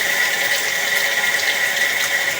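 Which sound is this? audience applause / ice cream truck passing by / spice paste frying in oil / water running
water running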